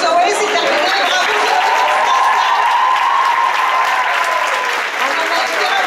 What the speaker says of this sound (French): on applaudit Zoé